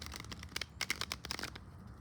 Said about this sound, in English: I'm trying to shuffle this.